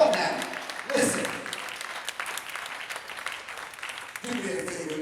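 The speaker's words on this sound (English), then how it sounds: "Give yourselves a round of applause." A lecture crowd gives itself a round of applause. The clapping is steady and moderately loud, with voices mixed in and rising again near the end.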